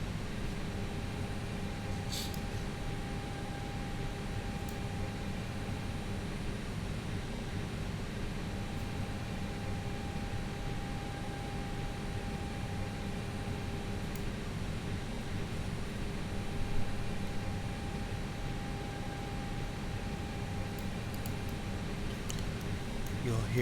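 Steady airliner cabin ambience in a ToLiss A319 flight simulator with the door open, a constant broadband hiss from the air inlet over a low hum and a faint recurring tone, no voices.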